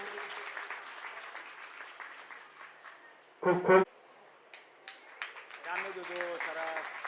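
An audience claps briefly at a school annual function and farewell ceremony as people are honoured. The short bursts of applause sit under and between someone speaking into a microphone.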